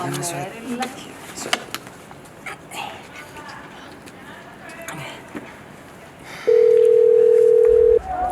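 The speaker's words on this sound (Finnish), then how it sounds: "pitäisikö sun soittaa Meerille?" A telephone ringback tone sounds loudly as a call is placed, one long steady beep after several seconds of background chatter and street noise, with voices heard earlier in the stretch.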